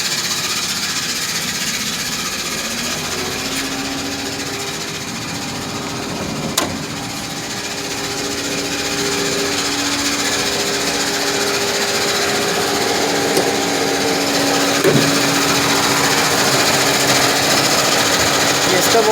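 A 2007 Chevy Equinox LT runs with its hood open, giving off a steady mechanical whine and buzzing rattle from the engine bay near the water pump, continuous and fairly loud, with someone talking at times.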